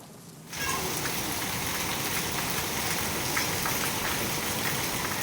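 Heavy downpour in Ahilyanagar, a dense steady roar of rain on surfaces that starts abruptly and continues loud and unbroken throughout.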